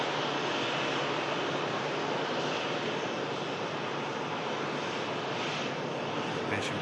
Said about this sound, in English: on the taxi out is the Air Transat now